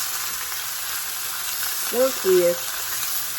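Thinly sliced meat for a cheesesteak casserole sizzles in a pan with a steady, fairly quiet frying hiss, and a voice speaks briefly over it.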